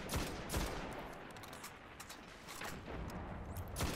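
Gunshots from a Hunter shooting at a wheel during a solo Nightfall against Cerberus Vae III in Destiny, several sharp, fairly quiet reports spaced irregularly over a faint ambient backdrop.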